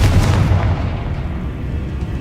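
Confringo blasting spell from Hogwarts Legacy going off as a loud, deep explosive boom that rumbles and slowly fades over a couple of seconds.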